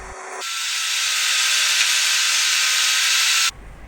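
A table saw slices a piece of wood in two, a steady, loud, close whine of blade through timber held for about three seconds before cutting off abruptly as the cut finishes.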